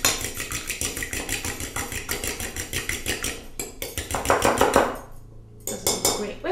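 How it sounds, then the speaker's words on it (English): Egg wash being whisked in a bowl, a fast regular clatter of the whisk against the sides heard close, pausing briefly near the end before resuming. "You have to whisk that up."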